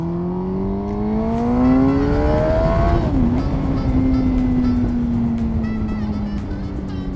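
A car cruises along a freeway with a steady drone of engine and road noise. A humming engine tone rises and then eases off slightly as the ride goes on.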